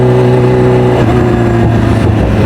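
A Kawasaki Ninja H2R motorcycle accelerates hard, a loud, close, droning engine tone climbing and then dropping sharply around a quick-shifter gear change before building again.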